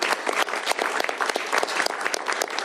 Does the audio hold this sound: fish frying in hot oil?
no